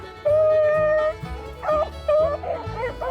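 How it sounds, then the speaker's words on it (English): Rabbit hunting dogs outdoors giving excited yips, whimpers and short howling bays in overlapping bursts, fairly close and loud, with no talking. "it just the sounds of the dogs running and getting out with the family"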